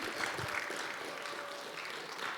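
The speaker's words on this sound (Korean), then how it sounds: "박수 한번 쳐도 됩니다" Faint, distant applause from a church congregation keeps a dense, even wash of clapping going for a couple of seconds.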